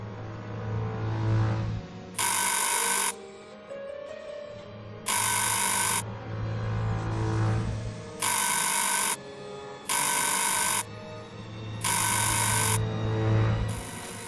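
A telephone bell rings repeatedly in the Murder on the Orient Express video game, bright rattling bursts of about a second each at a steady rhythm over a low train hum, with no talk.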